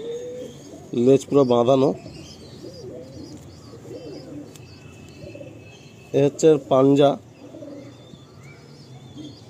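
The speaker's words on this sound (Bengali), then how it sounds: "এটা নর পায়রা, ছোট্ট পায়রা," Kalsira pigeons, a breeding pair, give two bursts of throaty rhythmic cooing up close, each about a second long, while someone talks quietly between them.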